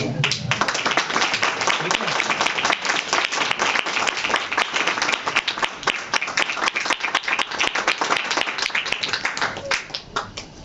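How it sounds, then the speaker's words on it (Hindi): A congregation at a church anniversary healing service claps in a steady, rhythmic beat, sharp even hand claps repeating throughout while voices carry over them. "तो आज ताली बिल्कुल ना बंद हो जाए"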